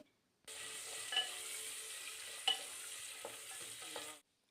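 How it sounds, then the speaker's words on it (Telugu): Thinly sliced onion frying with spices in a pan for Bangalore donne biryani: a steady, close sizzle with a few clinks of a stirring spoon against the pan, with no talking. "ఆ ఆనియన్ తరుగు కూడా వేసి ఫ్రై చేసుకోవాలి"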